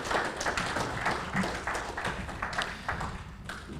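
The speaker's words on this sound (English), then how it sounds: "let's give another round of applause for our newest fellows as well as to all the award winners tonight" A dinner audience applauds new fellows and award winners, a steady wash of many hands clapping in a large room, moderately distant and reverberant.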